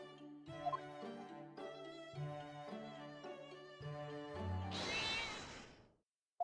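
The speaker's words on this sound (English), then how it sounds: "Cat freaked out." A cat meows in the game Ace Attorney Chronicles, with several drawn-out, tonal, harmonic cries in a row, ending in a sharp, harsh yowl.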